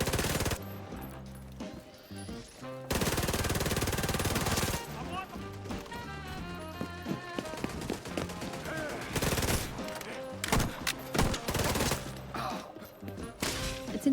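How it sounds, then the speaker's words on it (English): Turret machine gun in The Division 2, loud sustained bursts of rapid automatic fire with sharp gunshot cracks, repeated through the stretch, alongside other game noise. "the turret is killing some of the other terrorist people"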